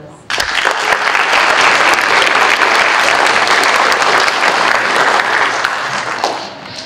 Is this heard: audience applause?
yes